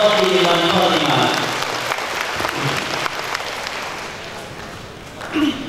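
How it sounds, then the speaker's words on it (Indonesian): Audience applause for students completing Quran recitation at a TPQ graduation ceremony, a dense broad patter that is loudest at the start and slowly thins, with speech over it. "Sekali lagi kita beri tepuk tangan yang meriah kepada para khotim dan khotimah"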